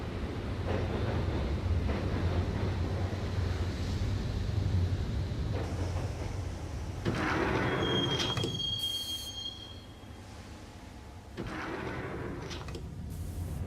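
A train ride in the video game Max Payne carries a continuous rolling rumble of a subway car, with shrill wheel squeals and a high screech near the middle, heard alone without talk.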